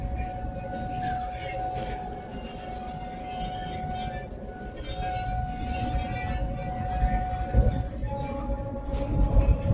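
A Vande Bharat sleeper train on the Howrah to Guwahati run, moving at about 108 km/h, gives a steady low rumble and rattle inside the coach with a sustained tonal whine and occasional clatter, growing louder toward the end.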